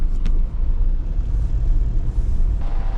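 A car engine rumbles steadily up close as the vehicle drives slowly into the grounds of a fishing pond park, with a brief brake hiss early on and continuous low road noise.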